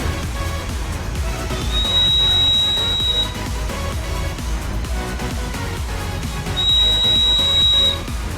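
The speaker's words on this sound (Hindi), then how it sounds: "लेज़र लाइट और एलडीआर के बीच का जो है एलईडी ग्लो करती है और बज़र बजने लग जाता है।" Laser security alarm project built on a PCB, its buzzer sounding two loud, steady high-pitched tones of about a second and a half each, separated by a pause, over background noise.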